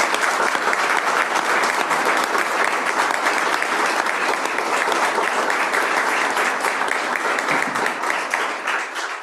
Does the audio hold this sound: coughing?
no